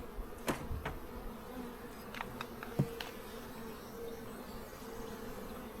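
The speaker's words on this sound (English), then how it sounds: "Lots of bees." Honeybees drone around an open beehive box in spring, a faint, steady low buzz with brief louder passes as individual bees fly close, and no voices.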